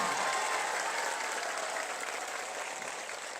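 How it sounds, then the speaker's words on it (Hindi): A crowd at a Bihar political rally claps in welcome, a dense, steady wash of applause filling the whole stretch and slowly easing off toward the end. "हर हाथ से ताली, जोरदार ताली बजा के अपना अपना स्वागत करें सब लोग"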